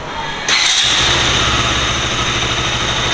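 A 2022 KTM RC200 motorcycle engine cranks and fires into life with a sudden loud burst, then settles into a steady, close idle for the remaining seconds, with no talking.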